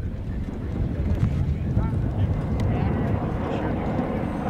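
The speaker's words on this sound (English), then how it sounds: "Windy today." Strong wind roars steadily across open desert sand dunes on a film set, a continuous low rushing buffet against the microphone with faint background activity.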